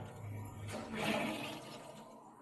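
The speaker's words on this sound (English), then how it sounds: "And let this cylinder fill up now." Water rushes and hisses into a newly plumbed hot water cylinder, a soft steady gush that swells and then eases, heard close in a quiet room with no talking.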